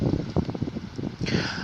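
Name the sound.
wind blowing outdoors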